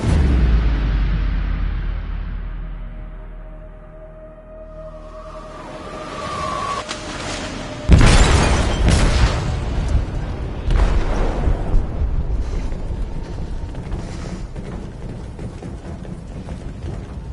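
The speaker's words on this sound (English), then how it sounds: "They detonated an explosive in the hold." A video-game explosive detonates in a ship's hold: a sudden loud boom, then a long rumbling roar with crackling debris and bursts that lingers for several seconds, preceded by a low, fading rumble.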